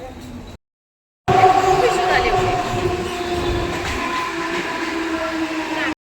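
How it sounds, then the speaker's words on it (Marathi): A suburban train runs steadily through Dockyard Road railway station in Mumbai, a loud continuous rumble and rattle of wheels and carriages at close range, with a voice briefly heard under it and a short gap of silence near the start. "इथून वरून ब्रिजवरून CSMT साठी ट्रेन पकडणार आहोत"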